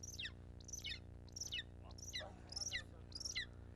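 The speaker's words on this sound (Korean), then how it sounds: "새끼 때 데리고 온 녀석은 삑삑거리는 소리를 낸다" A young golden eagle, taken as a chick and raised by a Mongolian nomad hunter, gives a rhythmic series of about six thin, descending high squeaks, faint and evenly spaced.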